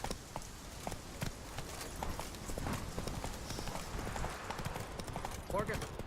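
A horse gallops in The Witcher 3 video game, its hooves clip-clopping in quick steady beats at moderate distance under soft game ambience, with a voice speaking briefly near the end.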